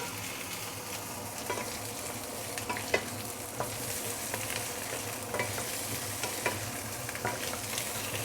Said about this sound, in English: So we're going to saute the ginger and also garlic first